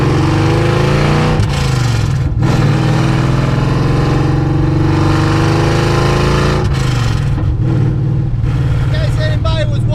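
A loud engine in a Ford LTD wagon with open headers revs hard and rumbles close by, raw and unmuffled, the pitch rising and falling with the throttle throughout.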